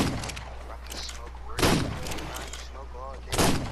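Gunfire in the video game ARK Survival: two loud, broad bursts of shots roughly two seconds apart, heard over continuous game background noise and a voice talking.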